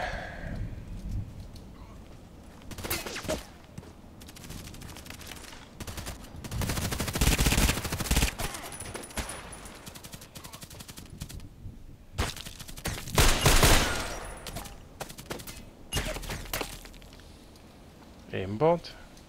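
Gunfire in a first-person video game shooter, with bursts of shots in several loud clusters and a quieter stretch between them, while a player talks over the action.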